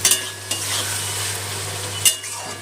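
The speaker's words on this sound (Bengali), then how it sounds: "কাঁচা লঙ্কা, গোলমরিচ গুঁড়ো, চিনিটা একটু মিশিয়ে দেবো" Green chilli, pepper powder and sugar are stirred into Chinese-style fried rice in a pan over a steady sizzle, with two sharp scraping strokes of a utensil near the start and end.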